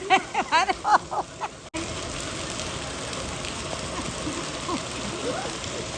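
First rain of the season falling outdoors, a steady broadband wash of drops that carries on alone after a few seconds of people talking at the start.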